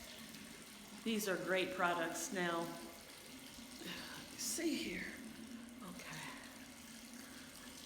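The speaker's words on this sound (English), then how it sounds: "Okay, and this is warm water." Warm water runs from a tap during a skin care routine, a soft steady trickle in the background while someone talks over it.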